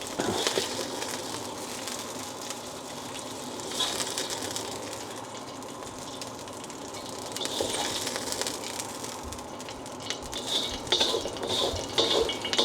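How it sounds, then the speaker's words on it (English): A pan is scrubbed clean of burnt bits under a running kitchen tap, with steady water flow, scraping and occasional metallic clinks close by. "We'll just try to clean the pan up a bit so we don't have any burn bits floating around"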